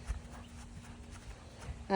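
A horse's hooves clip-clop in a rhythmic beat as it moves up from walk into trot during home training, with a steady low hum and rustle in the background.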